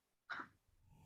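A single sharp sneeze bursts out at moderate distance during a stage reading, followed by faint room noise and low murmuring.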